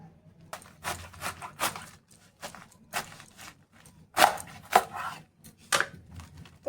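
Knife chopping cabbage on a cutting board: a series of crisp, irregular cuts, some quick pairs and some spaced apart, close and fairly quiet, with no talking.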